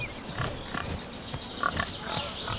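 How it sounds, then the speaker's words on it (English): Pigs in The Lord of the Rings: The Fellowship of the Ring game grunt and oink in short, soft bursts against faint ambient background. "And some pigs you can throw stones at."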